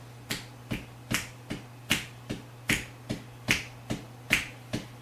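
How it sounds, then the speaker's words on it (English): Crisp finger snaps, about a dozen evenly spaced in a steady rhythm, close and distinct over a low constant hum. "So everybody go, snap your fingers like this."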